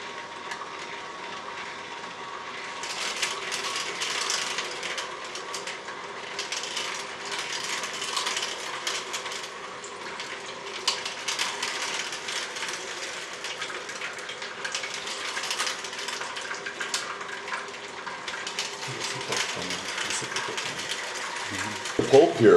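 An Omega VRT 330 vertical slow juicer works through pomegranates with a coarse screen fitted, giving a steady, close mechanical grinding and crackling hum that runs throughout, with faint rhythmic clicking.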